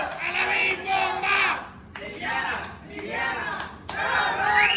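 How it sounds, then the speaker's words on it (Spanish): Crowd at a street event where a cake and gelatin are handed out, clapping and cheering in loud bursts that rise and fall three or four times, with shouting voices mixed in throughout. "¡El aplauso para ellos!"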